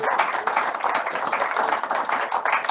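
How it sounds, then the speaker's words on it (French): An audience at a French award ceremony claps briefly for prize winners, a dense patter of hands heard from within the room. "Et on vous applaudit."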